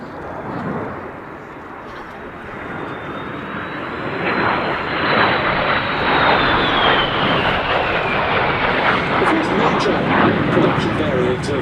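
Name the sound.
jet aircraft flying at Duxford airshow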